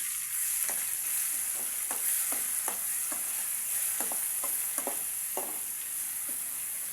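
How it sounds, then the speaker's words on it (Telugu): Ginger garlic paste fries in oil, giving a constant bright hiss of sizzling with a run of regular soft scraping strokes from stirring, close and unaccompanied by speech. "పచ్చి వాసన పోయేంత వరకు వేగనండి"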